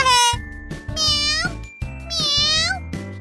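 A human voice imitates a cat in a finger puppet show, giving three drawn-out, high, wavering meows close to the mic with short pauses between them.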